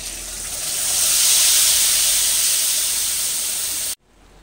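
Ginger-garlic paste with coriander, cumin, chilli and turmeric powders hits hot oil in a kadai over a low gas flame, giving a loud, steady hiss that swells, then cuts off abruptly near the end.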